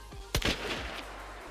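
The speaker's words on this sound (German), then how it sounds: "Und das ist die Schussfrequenz einer Mosin Nagant." A Mosin Nagant rifle fires in the video game Hunt: Showdown, giving one loud, sharp crack with a quick second report and a long, fading reverberant tail.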